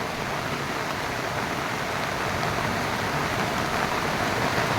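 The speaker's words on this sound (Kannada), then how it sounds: "ಸಖತ್ ಮಳೆ ಸುರಿತಾ ಇದೆ ಈಗ" Dense, steady downpour of heavy rain, a constant loud hiss with no pauses and no voices.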